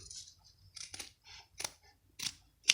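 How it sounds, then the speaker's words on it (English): Scissors trimming fabric seam allowances on a sewn waistband extension give several short, crisp snipping bursts spaced irregularly, close and fairly quiet, with no talk. "And trim your seam allowances"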